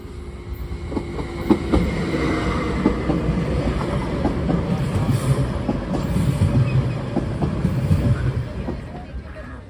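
A BLS train rumbles past a level crossing in Switzerland at close range, steady and loud, with rhythmic clattering of wheels over the rails and some faint talk in the background.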